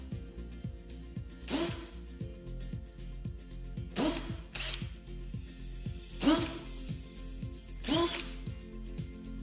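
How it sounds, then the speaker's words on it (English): Power drill boring pilot holes in plywood for a campervan table leg mount, heard as a rapid ratcheting whir with four short bursts of bit noise spaced about two seconds apart, fairly faint and close. "you can drill some pilot holes to make it a bit easier for yourself."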